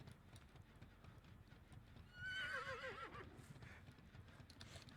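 A zombie horse in the horror game Dead by Daylight gives a single wavering neigh over a continuous soft rhythmic clopping and low ambient rumble, fairly quiet and with no talk.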